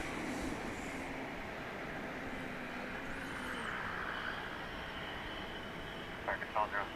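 An airliner departs on the runway at DFW Airport at night, a distant low jet engine rumble and roar building under the hiss of wind, faint and steady throughout.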